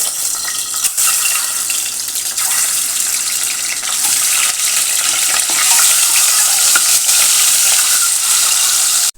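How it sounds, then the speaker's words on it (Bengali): Eggs frying in hot oil in a wok, seasoned with a little salt, give a steady, loud, broadband sizzle with small crackles that runs unbroken and close for the whole stretch, with no voices. "এখানে ডিমটা ভেজে নিব"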